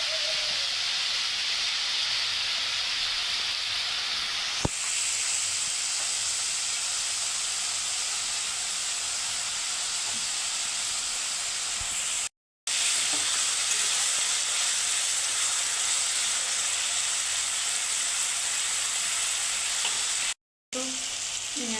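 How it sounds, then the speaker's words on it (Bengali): Spices fry in plenty of hot oil for a nihere fish curry, giving a loud, even, close sizzle that runs steadily throughout, with a sharp click early on and two brief dropouts. "মশলাটা একটু ভাজা ভাজা হয়"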